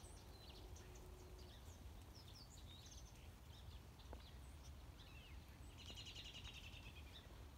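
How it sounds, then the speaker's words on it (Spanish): Small birds chirp and twitter in scattered bursts, faint and somewhat distant, over a steady low outdoor rumble on a snowy March morning in Beaverton, Oregon. "Si pueden escuchar los pajaritos, cómo es que están ahí cantando"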